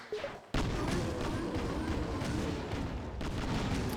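Explosions in the video game Shantae and the Pirate's Curse: a sudden loud boom kicks in after a brief quiet, followed by a dense continuous crackling barrage of blasts with another surge near the end.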